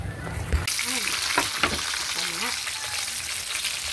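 Dried fish (tuyo) fries in a pan with a steady, close hiss of sizzling oil that runs throughout, while a voice speaks faintly in the middle.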